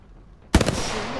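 A sudden burst of gunfire in a shooter video game: a sharp, loud shot followed by a few rapid echoing cracks and a lingering reverberant tail after a quiet moment.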